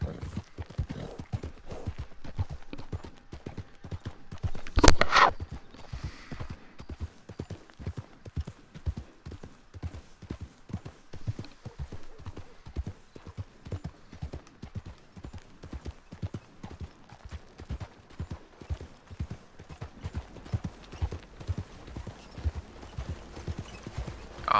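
Horse hooves clip-clop steadily in the Red Dead Redemption Online video game, a continuous rhythmic gait close up, with a brief louder burst around the fifth second.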